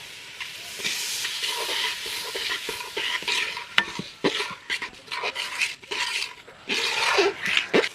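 Rice and lentils tipped into a pot already holding oil, chopped onion, green chilli, turmeric and salt for khichuri, giving a steady close sizzle and frying hiss with scraping stirs and bursts of louder crackle.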